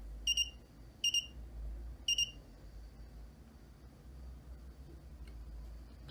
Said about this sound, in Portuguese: O Arduino ele triga o alarme e ele sabe exatamente qual sensor que está gerando esse alerta para nós.